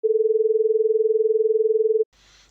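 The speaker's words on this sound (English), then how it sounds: "Our sine wave now multiplies by low frequency triangle wave." Synthesized sine tone multiplied by a low-frequency triangle wave, a steady pure pitch pulsing rapidly and evenly in loudness for about two seconds, then cutting off into faint noise.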